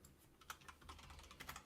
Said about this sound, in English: you're already typing faster than I can get to it